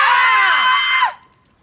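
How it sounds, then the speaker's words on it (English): A loud, sustained high-pitched scream from one person, held steady for about a second before breaking off sharply into near silence. "I can scream too."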